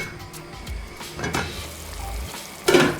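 Brown stew fish sizzles and bubbles in a pot, with a steady frying hiss, occasional stirring scrapes and a louder clatter near the end, heard close up without talking.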